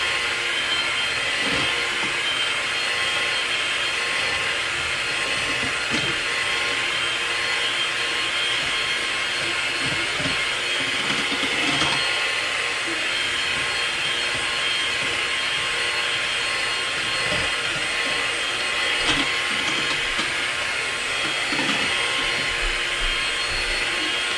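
An electric kitchen mixer mixing sweet potato pie filling whirs loudly and continuously, a steady high-pitched motor whine with faint clatter, no talking.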